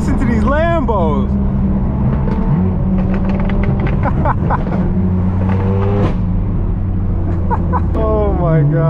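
Several Lamborghinis at a car meet rev their exhausts and pass by, giving loud engine sweeps that rise and fall against a steady motor drone, with people talking over them.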